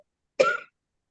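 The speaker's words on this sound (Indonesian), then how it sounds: "Udah mulai batuk-batuk." A single short, harsh cough or throat-clearing burst, close and fairly loud, lasting a fraction of a second amid silence.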